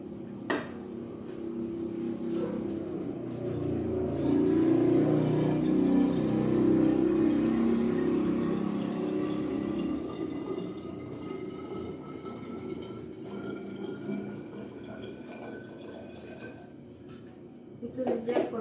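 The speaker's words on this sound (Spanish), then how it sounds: "lo que haré ahorita es vertir un poco de agua aquí" Water is poured into a bottle for a volumetric thermal expansion demonstration, a steady trickling fill that rises through the middle of the clip under a speaking voice, with faint drips and clinks near the end.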